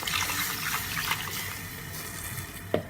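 Water pours into curry paste with sauteed onion in a pan for a kingfish curry, making a continuous close splashing trickle that ends with a brief clink.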